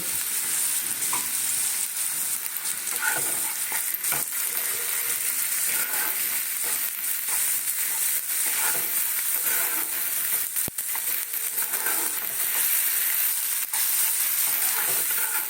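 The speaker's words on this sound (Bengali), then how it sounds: "এটা একটু ভাজা ভাজা হয়েছে তো" Omelette pieces and curry masala with Kashmiri chili powder frying in a pan, a continuous crackling sizzle with occasional stirring scrapes, close and steady with no talk.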